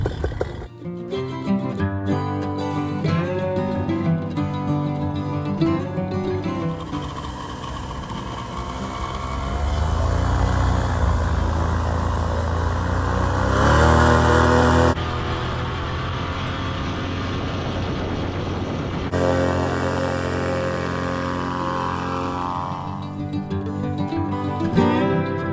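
A paramotor's engine and propeller drone loud and close throughout flight over Arizona, the throttle swelling and easing so the rumbling tone shifts in pitch, with a brief dip midway.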